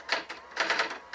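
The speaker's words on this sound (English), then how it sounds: "my one-finger typing." Keys are tapped one finger at a time on a keyboard, five or six separate clacky strokes in an uneven rhythm, close and alone.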